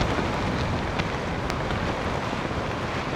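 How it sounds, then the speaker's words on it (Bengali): Strong wind howls across the rain-soaked hilltop of Nilgiri in Bandarban, Bangladesh, a dense, unbroken rushing roar close against the microphone, with no voices. "প্রচণ্ড রকমের বাতাস।"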